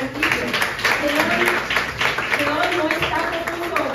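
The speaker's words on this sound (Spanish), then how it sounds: "pido un fuerte aplauso para este gran equipo" An audience at a Dominican Chamber of Commerce USA magazine launch event gives a team a round of applause, a steady clatter of many hands heard beneath someone speaking over it.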